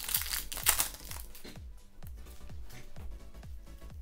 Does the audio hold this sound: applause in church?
no